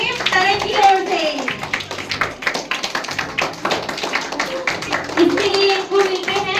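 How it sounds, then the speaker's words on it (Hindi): Enthusiastic applause from a Hindi school quiz show audience for team Tarang after a correct answer, a dense crowd of claps running steadily throughout with children's voices mixed in. "एक बार जोरदार तालियां टीम तरंग की ओर से।"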